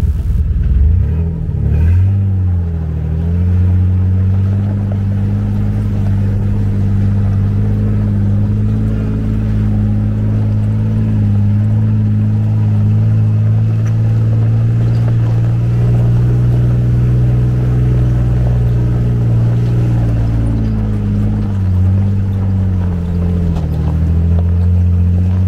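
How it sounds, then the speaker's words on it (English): A car drives along a road in Baja, California, on a long highway trip, giving a loud, steady engine and road rumble that holds throughout with slight shifts in pitch and no voices. "Today we are heading to Bahia Concepcion, which will be an all-day drive according to Javier."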